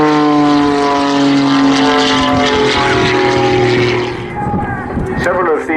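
A propeller-driven aerobatic aircraft roars through a level inverted turn at an airshow, its engine droning loud and steady before fading and shifting in pitch as it passes, with a voice talking underneath.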